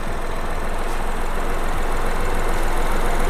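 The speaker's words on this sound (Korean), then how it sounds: "엔진 소리 일정합니다." A third-generation Mini Cooper engine idling steadily up close, a constant even rumble and hum with no revving and no voices.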